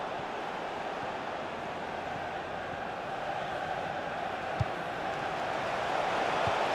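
Broad, steady roar of a football crowd at Anfield in the FIFA 17 video game, swelling slightly toward the end, with no clear voices standing out.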